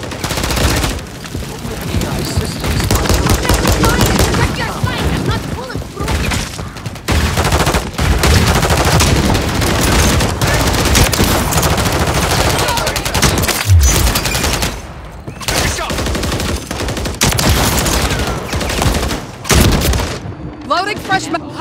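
Gunfire in the Call of Duty: Modern Warfare III multiplayer game: loud, dense bursts of automatic rifle fire and shots nearly continuous for twenty seconds, with brief lulls and occasional booms, under game voice callouts.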